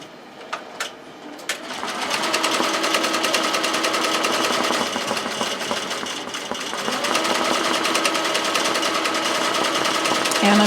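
Sewing machine stitching a sunflower tote bag, running in a steady continuous whir after a few brief clicks at the start, close and fairly loud with no pauses.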